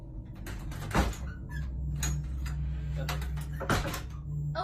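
A door that seems to open and shut by itself gives two distinct knocking clicks over a steady low hum, with voices faintly present.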